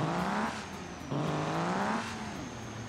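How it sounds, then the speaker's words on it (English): A 12-valve Cummins truck engine in a video game drones loud and close, with its pitch rising and falling over repeated gear-like surges and no voices. "Yes, that's a 12-valve Cummins."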